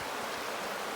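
Steady broadband rush of a river flowing through Pine Creek Gorge, a continuous close wash of water with no breaks, no voices over it.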